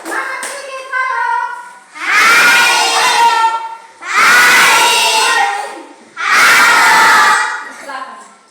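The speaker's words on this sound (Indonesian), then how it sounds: "Mari kita sambut dengan beri aplaus kepada kelompok 3" Classroom audience of schoolchildren clapping and cheering for a presenting student group in three loud bursts of applause mixed with shouts, separated by brief pauses.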